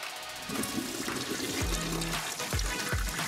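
A household toilet flushing just after being unclogged with a plunger, a steady close rush and trickle of water filling the bowl, with a few brief low thumps, no talk.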